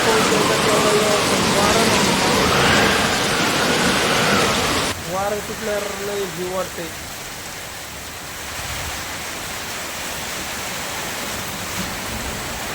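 Heavy downpour with strong gusting wind during a village storm, a loud steady hiss of rain that carries on throughout; a voice talks over the rain for a few seconds partway through.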